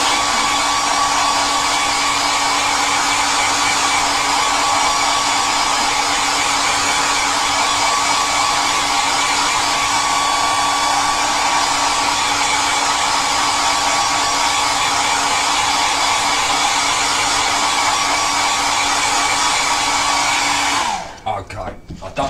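A hair dryer drying a gel plate monoprint runs loud and steady at close range for about twenty seconds, then cuts off abruptly.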